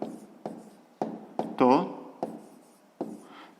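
A pen writes by hand on paper in a maths exercise, short scratchy strokes starting and stopping in bursts, close up under a voice explaining.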